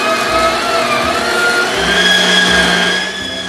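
An electric meat grinder works through a mix of venison and pork for burger, giving a steady whining motor drone with a faint rhythmic low thudding underneath, close and constant, with no talk.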